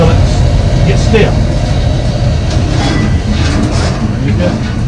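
Steam train running with a steady, loud, rumbling roar from the cab, continuous and broad with faint rhythmic clatter throughout and no speech.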